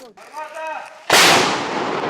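A single loud, sharp blast of heavy artillery, an Msta-B howitzer firing close by, followed by a long rolling echo that fades slowly.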